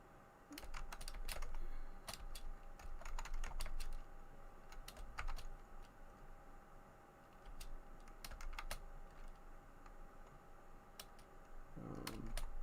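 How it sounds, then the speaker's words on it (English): Fingers type on a computer keyboard while a HyperCard text adventure game is being built, a quiet, close run of irregular key clicks with brief pauses between bursts. "we want them to be able to type in go north instead of just clicking the button"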